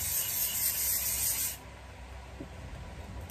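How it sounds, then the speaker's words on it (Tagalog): Remod hair spray is sprayed onto curled hair in a steady, close, loud hiss lasting about a second and a half, then stopping abruptly, leaving a quiet room. "para hindi siya mag-loose agad, ini-sprayan ko lang siya nitong hair spray"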